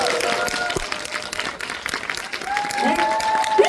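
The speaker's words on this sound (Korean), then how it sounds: "큰 박수 부탁드립니다." Audience applause at a film premiere guest event in Korea, dense steady clapping filling the whole stretch, close and loud, with crowd noise and some voices mixed in.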